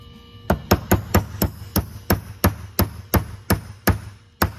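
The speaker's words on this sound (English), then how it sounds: "I'll use a roll pin starter punch to get it going." Roll pin being driven in with a roll pin starter punch, about a dozen sharp, evenly spaced hammer strikes ringing close and loud in a quiet room.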